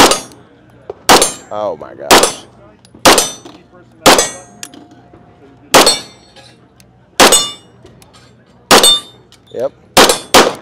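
Pistol shots from a Nighthawk handgun in .30 Super Carry, fired at a range, each crack followed by a ringing clang off steel targets, about ten spaced shots close by, with brief exclamations from a shooter between them.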